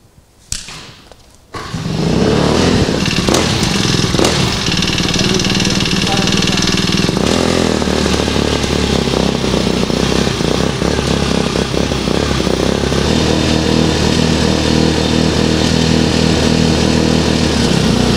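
A Shell Eco-Marathon prototype car engine starts after a brief crank, then runs loud and steady at close range, a constant buzzing drone with a slight change in pitch partway through.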